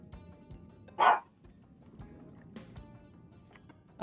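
A single sharp dog bark rings out over a quiet room background, with faint low noise before and after it.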